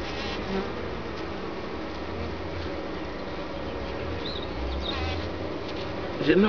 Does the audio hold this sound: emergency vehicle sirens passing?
no